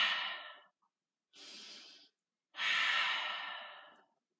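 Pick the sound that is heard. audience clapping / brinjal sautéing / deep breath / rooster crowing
deep breath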